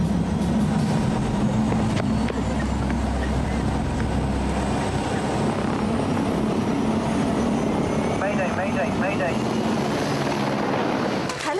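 Helicopter flying close overhead, a loud continuous rotor thrum and engine drone throughout, with a voice calling out over it.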